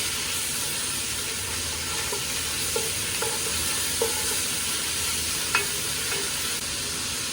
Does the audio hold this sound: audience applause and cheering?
no